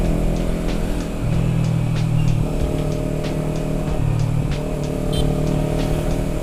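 Manual clutch motorcycle engine running steadily after an upshift, a loud close continuous drone with the pitch stepping up slightly twice, with no voices.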